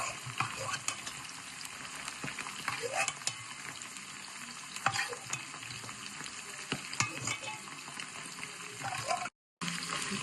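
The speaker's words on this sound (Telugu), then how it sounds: "చికెన్ క్రిస్పీగా ఫ్రై చేయాలి ఫ్రెండ్స్." Chicken pieces frying in oil for a chicken pachadi, a steady close sizzle with occasional stirring scrapes and clinks, no talk.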